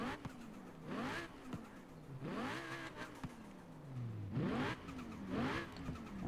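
An Audi RS7 Sportback engine in Forza Horizon 4 revs up in repeated rising sweeps, climbing sharply and dropping back between pulls, with gear-change dips and a strong, close, buzzy tone.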